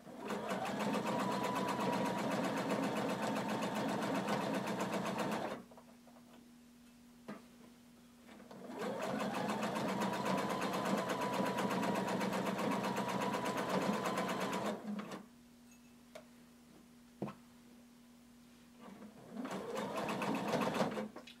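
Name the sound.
sewing machine stitching a hooded tunic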